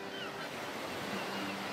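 Surf washing onto a beach, a steady broadband wash with wind noise on the microphone, continuous and fairly faint throughout.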